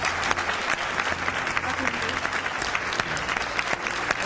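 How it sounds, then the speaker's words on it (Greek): An audience gives a woman a round of applause: dense, continuous clapping from many hands that holds steady and fairly loud throughout. "Θέλω παρακαλώ όλοι μας να χειροκροτήσουμε αυτή τη γυναίκα."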